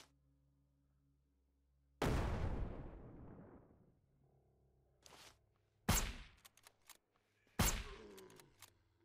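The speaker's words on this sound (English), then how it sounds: "The grenade exploded over there, buddy." A grenade blast in the zombie shooter game SurrounDead erupts as a loud broadband boom that rolls off over a couple of seconds, followed by several sharper, shorter bursts from the same fight; no voices.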